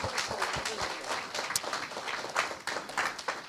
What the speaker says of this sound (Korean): 우리 고3들에게 박수 한번.